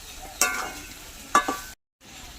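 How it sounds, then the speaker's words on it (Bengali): Okra frying with a paste of ground mustard and green chili is stirred in a pan, with two sharp scraping strokes over a soft sizzle before a brief cut of silence. "সর্ষে কাঁচা লঙ্কা বাটা দিয়ে দিচ্ছি আবার নাড়িয়ে চাড়িয়ে নেব"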